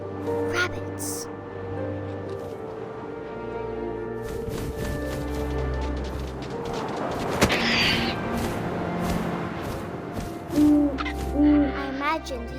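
An owl hoots in the video game What Remains of Edith Finch, a few low, rounded calls near the end over wind, soft ambience and a narrating voice.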